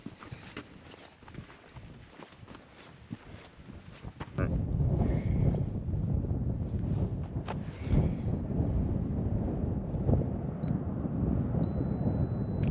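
Steady wind buffeting a microphone outdoors on a cold morning, a low roar that grows louder partway through, with faint scattered thumps and rustles.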